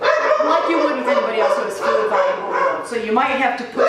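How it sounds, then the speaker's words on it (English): Dogs bark and yip in the background while a person talks over them, the barking intermittent and fairly close. "sorry about the dogs"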